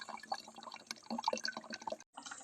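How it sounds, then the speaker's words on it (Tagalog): Water trickles and drips into a container at an outdoor spot, sounding faint and irregular, with brief bubbly plinks and a short break near the end, without talk. "malapit na mapuno nga yung tubigan natin"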